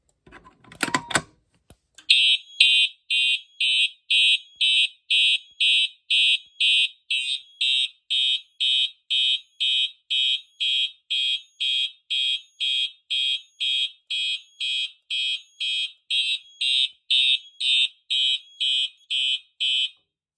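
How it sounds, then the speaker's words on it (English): A Simplex 4004R fire alarm panel sounds in march time after a pull station is activated, giving a loud, rapid, evenly spaced series of bright buzzing pulses, preceded by a brief sharp clack. "So you see now the system is going off in march time."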